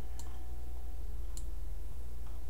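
A computer mouse clicks twice, sharp and close, about a second apart, over a steady low background hum.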